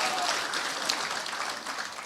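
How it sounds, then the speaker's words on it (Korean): A crowd applauds with a dense, even patter of clapping at a political speech in Gangneung, holding steady throughout, moderately loud, with no voices. "강릉분은 박수가 참 약하네."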